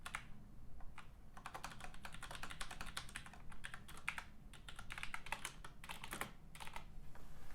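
Close, quiet typing on a computer keyboard at a narrow desk: bursts of rapid key clicks separated by short pauses, with no voices.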